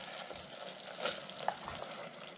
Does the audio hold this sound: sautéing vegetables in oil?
yes